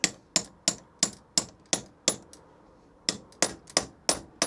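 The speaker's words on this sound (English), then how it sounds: "you slide it over and you use the hammer again and you tap on it" A hammer taps a pipe wrench in a quick run of sharp metallic clangs, about a dozen close strikes with a brief pause midway, heard alone without talk.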